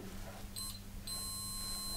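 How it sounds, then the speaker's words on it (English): A handheld continuity tester with two small probes gives a couple of brief, high electronic beeps when the probes touch, followed by a longer steady tone, close and clear over a low background hum. "you get a little beep"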